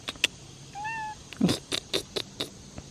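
A cat gives a short, clear meow up close, followed by several quick clicks and taps nearby.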